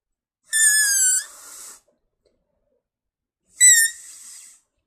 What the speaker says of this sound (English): I don't know, like a really high pitched noise.